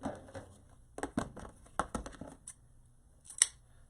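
Scissors snip through a ribbon tail in a quiet room, a few sharp close clicks and cuts spaced irregularly, with one crisp snap near the end.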